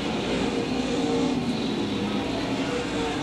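Race cars running laps late in a short-track oval race at Lakeside Speedway, a steady broad engine roar from several cars at mid distance with no clear pass-by peak.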